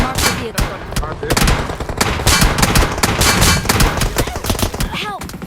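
Rapid bursts of automatic gunfire crackle in a mobile shooter match, dense and loud across the whole stretch, with overlapping shots and brief gaps between volleys.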